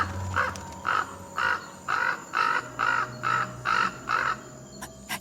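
A crow caws eight times in a steady rhythm, each call loud and close, over a quiet outdoor background with a faint steady hum.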